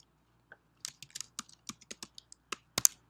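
A password is typed on a computer keyboard: a brief run of about a dozen crisp, close key clicks in an uneven rhythm, ending with a sharper keystroke.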